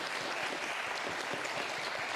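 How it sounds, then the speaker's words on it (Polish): Steady studio audience applause during a televised youth debate, a dense, even wash of clapping that holds at full strength throughout, with no voices heard. "ale szkoda czasu na te oklaski"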